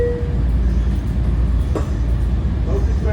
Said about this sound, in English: This is the train to LIRR Rockaway.